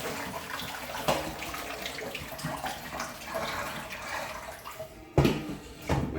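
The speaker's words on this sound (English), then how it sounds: "I'm going to drain this pan again." Water drains out of a pan of lasagna noodles in a kitchen, a soft running gush with a few louder splashes and sloshes near the end, no voices.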